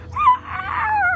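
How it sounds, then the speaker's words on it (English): Dog whining loudly, a close, high wavering whine that rises and falls in one long drawn-out cry, alone without voices. "he whines so loud that you would think that he was being tortured to death as an animal"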